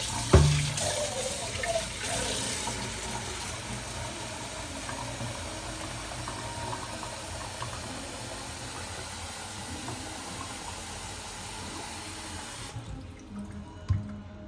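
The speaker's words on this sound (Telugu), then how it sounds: "మళ్ళీ వాటర్ తీసేసి మళ్ళీ ఫ్రెష్ వాటర్ పట్టుకోవాలి" Tap water runs steadily into a bowl for washing mushrooms, a continuous broadband rush lasting about twelve seconds after a brief clunk at the start, then cutting off abruptly near the end, with no talking.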